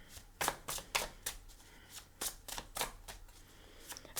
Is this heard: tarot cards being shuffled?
yes